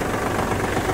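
Diesel engine of a Kubota L1-185 tractor idling, a steady dense rumble with even knocking pulses, loud and close throughout.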